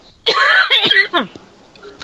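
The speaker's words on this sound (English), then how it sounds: "I'm going to cough" A single close cough with a throaty, rasping burst, followed by a couple of quieter clicks and breaths.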